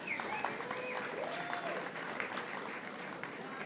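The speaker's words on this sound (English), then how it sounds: "One more round of applause." Audience applause at a Hyde Park 150th anniversary luncheon, a steady wash of clapping that holds evenly throughout, with faint voices and a few tonal sounds threading through it.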